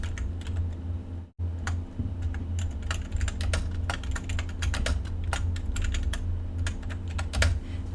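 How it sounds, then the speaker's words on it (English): Rapid, uneven clicks of typing on a computer keyboard, close and clear, with a brief pause near the start before the keystrokes continue steadily. "can type in your name or name of your company,"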